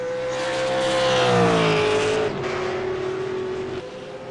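V8 race car on a qualifying lap at Watkins Glen in a racing game, engine note rising under hard acceleration, then dropping sharply on a gear change before climbing again, loud and close.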